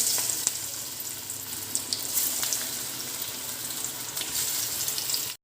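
Jackfruit seed vada frying in hot oil over a low flame, a steady close broadband sizzle with faint bubbling and small crackles running throughout.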